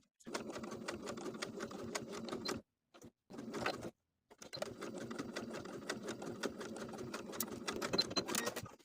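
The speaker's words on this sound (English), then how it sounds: "we're going to sew around the neckband once again, this time 1/4 of an inch away from the original stitching line" A sewing machine stitches around the neckband of a knit top, running in a steady close whir that stops briefly twice before resuming.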